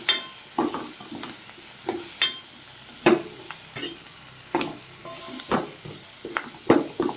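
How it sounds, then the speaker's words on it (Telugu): A spoon stirs pumpkin curry in a pan, making repeated scraping strokes about once a second over a faint sizzle, with no talking. "ఒకసారి అంతా మంచి కలుపుకోవాలి."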